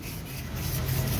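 A Toyota Corolla brake part is sanded by hand with 1000-grit sandpaper during a brake cup kit repair, making a brief, close, steady rubbing scrape.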